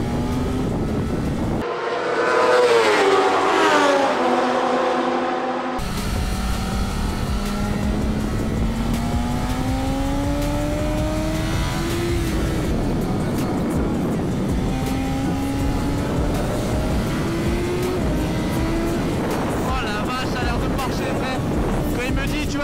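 A BMW M1000RR motorcycle accelerates around a race track, its engine note climbing in pitch again and again under heavy wind roar while a voice talks throughout.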